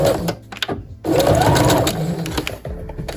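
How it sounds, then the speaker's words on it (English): Sewing machine stitching down elastic on vintage Barbie doll clothes, a steady close whirring run of stitches after a brief pause, with short starts before it. "I'm going to sew it down."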